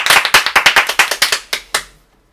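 A few players at a Skyjo board game night clap together in a steady rhythm, about a dozen close, loud claps that slow down, with the last couple ringing out alone before silence.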